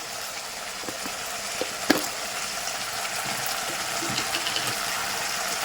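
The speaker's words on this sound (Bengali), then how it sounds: "এর মধ্যে কিছু টমেটাও দিয়ে দিলাম ঠিক আছে তবে সুন্দর করে নাড়াচাড়া করে নেবো" Tomatoes frying in a pan, a faint, even hiss of sizzling oil with a few soft stirring knocks, one slightly louder tap near the start; no talking.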